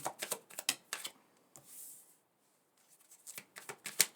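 Quick bursts of cards being riffled and shuffled, several rapid flurries separated by short pauses, close to the microphone with a brief soft rustle midway.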